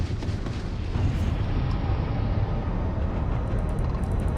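Torpedo blasts in a space combat video game, a dense continuous rumbling roar of explosions filling the whole stretch, loud and close.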